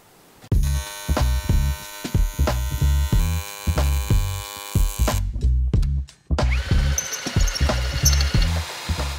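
A power tool, likely a drill, cuts a hole in the wooden body of a homemade billy cart in loud close bursts of whirring. The motor stops and starts repeatedly, then gives way to scraping and clatter.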